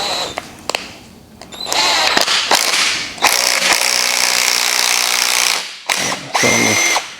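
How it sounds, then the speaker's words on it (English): An impact wrench drives a forcing screw on the crankshaft of a GM 5.3 engine during an overhaul, running in several short bursts and then one long, loud hammering run at close range. "you can just stick your impact in the end of this and force the screw down"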